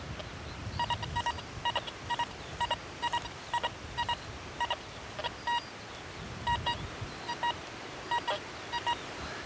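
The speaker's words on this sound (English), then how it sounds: "just have a listen to that little double beep" Metal detector giving repeated short double beeps at a steady rhythm while sweeping a UK field, a tonal pulsing signal over a constant low rumble of wind and handling noise.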